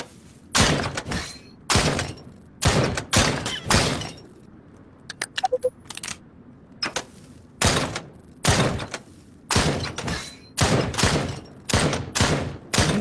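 Gunfire in the VR shooting game Drop Dead Dual Strike, loud, close shots spaced irregularly and sometimes in rapid pairs or clusters, with a short pause near the middle filled by small clicks.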